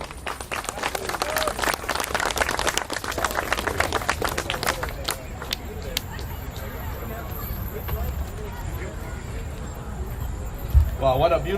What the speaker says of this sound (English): I want you guys to give Senator Phong He a warm applause, please.